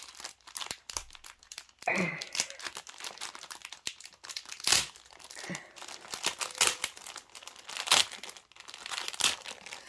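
A cross-stitch kit package is opened close by, its plastic crinkling and tearing in irregular bursts, with rustles and sharper crackles throughout.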